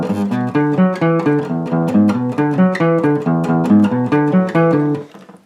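Electric guitar plays the main riff of a song as a steady run of picked single notes in a repeating pattern, close and clear with no talk, fading at the end.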